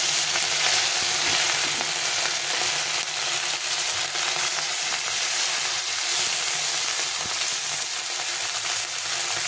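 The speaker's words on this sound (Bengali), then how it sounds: "সাদা তেলে মাছটা ভেজে নেব" Small fish fry in a little hot white oil with a continuous bright sizzle and crackle, close and steady, with occasional stirring.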